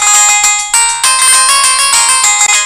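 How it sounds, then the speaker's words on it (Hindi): A mobile phone ringtone plays loudly and alone, a bright repeating electronic melody with no voices. "ओहो किंगो आ गयो फोन है।"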